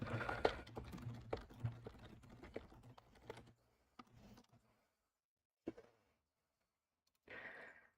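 Computer keyboard typing, close and fairly quiet: a dense run of rapid key clicks for several seconds, then sparse isolated taps and short bursts separated by silence, with no talk.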